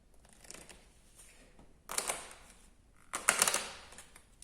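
Tarot cards being shuffled by hand, two bursts of crisp riffling and fluttering card noise after a quiet stretch, close and fairly loud, with no talking.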